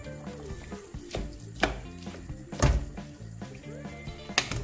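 Ground beef cooking with onions in a pan, heard as a low background sizzle under repeated loud thunks and scraping clatters of a utensil against the pan, no voices.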